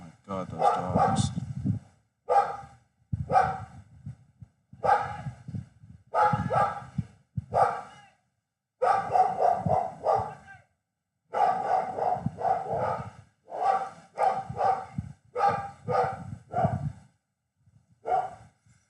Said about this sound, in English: Oh my god, those dogs.